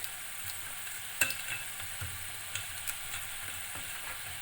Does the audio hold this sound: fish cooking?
yes